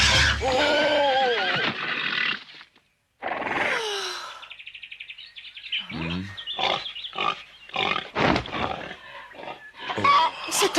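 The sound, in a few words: pig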